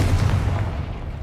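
A Confringo fire spell blast in Hogwarts Legacy lands as a loud, low booming burst that rumbles and fades over about a second.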